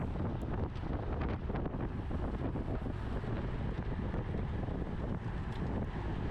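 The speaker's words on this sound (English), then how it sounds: "the headwind here was pretty good" Strong headwind buffeting the microphone during a bicycle road race, a constant loud roaring rumble that fills the whole stretch with no talk.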